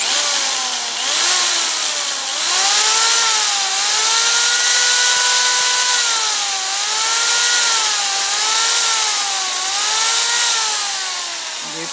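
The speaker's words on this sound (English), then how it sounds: "pag pinapower on po natin itong ating portable drill" A portable electric drill powered by a homemade 12V-to-AC pure sine wave inverter whines steadily, its pitch rising and falling as the trigger is eased and squeezed, loud and close.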